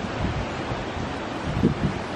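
Strong outdoor wind buffets the microphone in a continuous low roar with a couple of brief louder gusts, no voices present.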